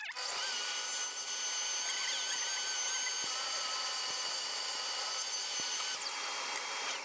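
A saw blade cuts thin strips from a 3 mm wooden board, giving a steady, loud, high-pitched whine that runs without pause, close by and alone.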